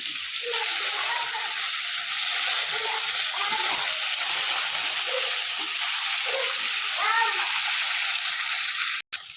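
Food fries in hot oil in a pan, a steady loud close sizzle with occasional bubbling pops, then a brief sharp break near the end.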